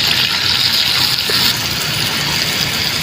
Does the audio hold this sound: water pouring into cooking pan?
yes